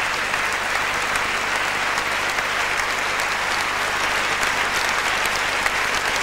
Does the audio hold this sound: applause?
yes